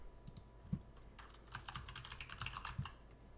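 A password is typed on a computer keyboard: a quick, uneven run of close, soft key clicks that grows denser partway through, heard alone without talk.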